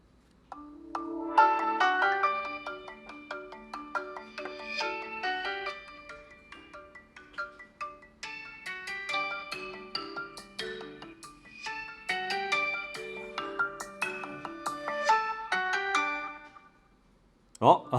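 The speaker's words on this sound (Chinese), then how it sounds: "那么这个铃声还是相当熟悉的" A Huawei Mate50 Pro plays its ringtone through its stereo speakers, a bright melodic chime looping in two phrases with a brief pause between, fairly clear and close, no talking.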